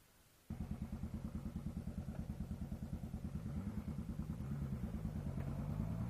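A Yamaha R6 sport motorcycle rides past with a loud, steady engine drone and rapid rhythmic pulsing that rises slightly in pitch, heard close up without talk.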